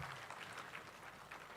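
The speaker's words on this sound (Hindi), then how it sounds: "श्री योगेश जी काले, आप सबकी तालियों के साथ अभिनंदन माननीय सचिव महोदय का भी इस अवसर पर" Brief, faint applause from an audience at the IBM 5 Star Rating Awards 2022-23 ceremony for mines, a soft patter of many hands clapping at a distance.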